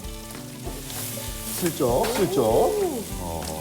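Chopped green onion stir-frying in a hot pan, a steady loud sizzle with stirring, while people talk over it.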